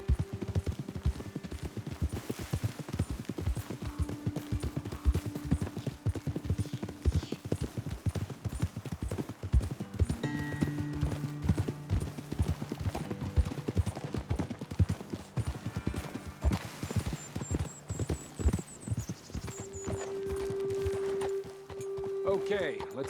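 Horses' hooves clip-clopping steadily on ground in Red Dead Redemption 2, a continuous walking rhythm near and fairly loud, with occasional game tones and background sounds mixed in.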